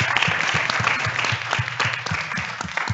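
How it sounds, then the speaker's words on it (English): A conference audience at a capacity-building forum breaks into sustained, dense applause, many hands clapping together at moderate distance with a faint murmur beneath. "Just a round of applause for you"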